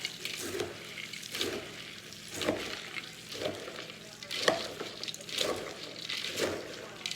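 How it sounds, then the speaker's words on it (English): A spoon drags Chex Mix around a pan in rhythmic scraping sweeps, roughly one stroke a second, each rising over a low, steady background hiss. "you just keep bringing it up as you're stirring"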